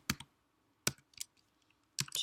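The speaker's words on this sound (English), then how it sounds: "So once it's highlighted, you can start typing." Computer keyboard typing in short clustered bursts of clicks separated by pauses, close and fairly quiet, with no talking.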